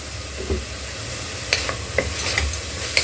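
Loud continuous sizzling of watermelon rind sautéing with turmeric and asafoetida in a frying pan, with occasional scraping clinks of a utensil stirring, close up.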